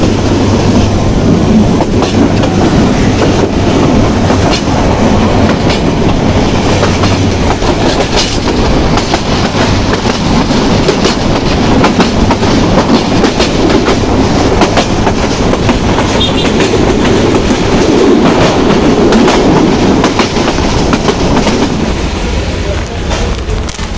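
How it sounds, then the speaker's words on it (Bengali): A passenger train on the hilly, winding route from Sylhet to Dhaka, loud and steady, with continuous rumbling and clickety-clack of wheels over rails throughout. "দেখতে পাচ্ছেন ট্রেনের কত সুন্দর পাহাড়ি আঁকা বাঁকা রাস্তা দিয়ে ছুটে চলছে।"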